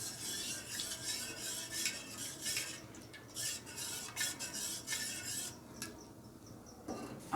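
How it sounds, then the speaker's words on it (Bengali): Pitha batter for chitol pitha stirred steadily in a bowl, a quiet continuous scraping and swishing with soft rhythmic strokes, close by and alone, easing off near the end. "এই দেখুন, আবারও ভালো করে গুলিয়ে নেব।"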